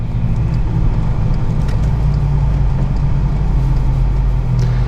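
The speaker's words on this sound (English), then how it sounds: "about to come out in his Club Sport S running new Nankang tyres" A VW Golf GTI Clubsport S on new Nankang tyres pulls out at a GTI International car show, its engine a steady, loud rumble close by with no talk over it.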